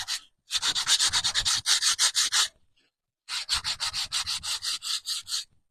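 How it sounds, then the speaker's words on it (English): White pine board being sanded by hand, two long runs of quick, rhythmic rubbing strokes separated by a short pause, close and clear with no talking. "All right, I'm going to sand now."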